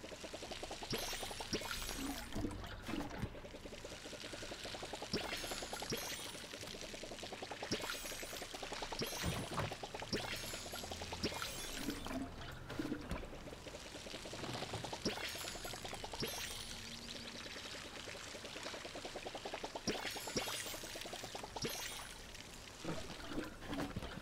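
Watering crops with a watering can in the video game Palia, with repeated pouring water sounds, steady splashing streams that recur in cycles at moderate volume, with no talk.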